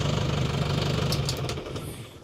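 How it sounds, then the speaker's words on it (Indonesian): An Isuzu Panther from 1996 idles with a steady low engine rumble for about a second and a half, then the engine dies away as it is switched off, leaving a quieter tail. "kita matikan mesin dulu ya."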